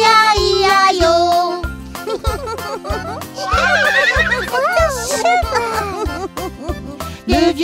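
A horse whinnies in wavering high cries over a bouncy French children's version of Old MacDonald Had a Farm, with steady drums and singing.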